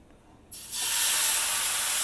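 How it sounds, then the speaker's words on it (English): Ragi dosa batter ladled onto a hot pan bursts into a loud, steady sizzle after a brief quiet moment, holding an even hiss to the end. "And now I'm going to pour a ladle full of batter"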